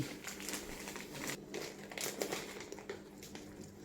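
Continuous crinkling and crumpling of a resealable plastic bag being handled while making keto chicken wraps, close and fairly quiet, with no speech.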